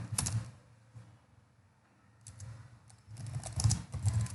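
Computer keyboard keys being typed in short clustered bursts, with a quiet pause in the middle, as a command is entered for a Python Django project.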